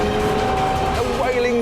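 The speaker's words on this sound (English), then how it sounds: "A wailing V8 sounding glorious." A loud V8 engine screams at high revs near 8,500 rpm, its pitch climbing steadily as a BMW M3 or Mercedes C63 AMG accelerates hard past 130 mph, with a voice talking over it.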